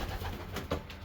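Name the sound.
racing pigeon hen cooing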